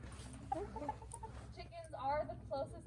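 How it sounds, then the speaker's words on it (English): Chickens cluck softly and intermittently at an animal sanctuary, low and fairly faint, with people talking nearby. "we're gonna look at some chickens"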